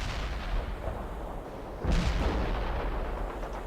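Artillery and rocket launcher fire in the World In Conflict strategy game, a dull low boom swelling around the midpoint over a continuous rumbling battlefield bed, no voices.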